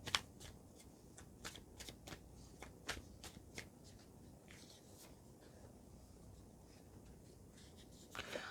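Animal spirit cards shuffle during a tarot reading in a quiet room: a quick series of crisp, close riffling snaps at the start, a softer stretch of handling, then another burst of shuffling at the end.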